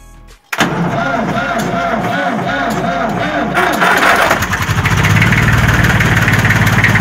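An Opel Kadett 1.3 OHC engine cranks and catches, then settles into a loud, steady idle with a rough, throbbing rumble, while people talk nearby over the running motor.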